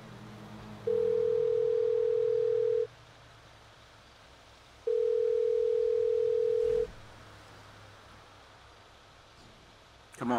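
A telephone ringback tone during a call in a video game roleplay: two long, steady beeps about four seconds apart over a quiet hiss.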